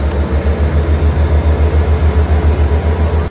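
A boat engine runs steadily at close range, a low pulsing throb with an even rhythm and no voices, ending abruptly.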